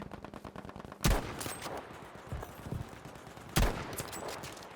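Gunfire in the online shooter Battlefield V: two sharp loud bursts about two and a half seconds apart rise over a steady rattle of distant shots and battle noise.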